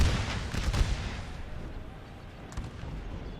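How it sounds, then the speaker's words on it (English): Artillery fire hits troops in the Napoleon Total War ACW mod game, a loud burst of booming, rumbling impacts at the start that fades into a lower roar, with another fainter thump near the end. "These guys are going to be hit by that artillery. Oh, look at it ripping through already."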